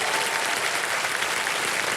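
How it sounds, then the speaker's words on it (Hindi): A large studio audience at the Kaun Banega Crorepati game show claps loudly and continuously, a thick even wash of applause with no pauses. "तो एक बार फिर जोरदार तालियों के साथ इनका स्वागत किया जाए"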